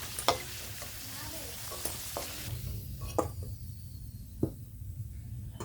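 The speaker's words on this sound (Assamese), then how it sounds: "মোৰ আলুখিনি ফ্ৰাই কৰা হৈ গৈছে।" Potatoes frying in hot oil for a curry, a steady sizzle running throughout with a few sharp clinks and scrapes of a spoon or spatula stirring in the pan.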